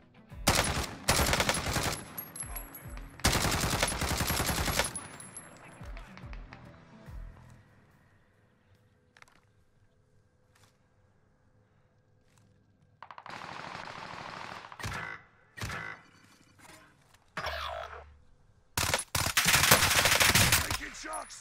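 Automatic and single gunfire bursts in Call of Duty: Modern Warfare, loud repeated volleys at the start and end with a quieter lull and scattered shots between.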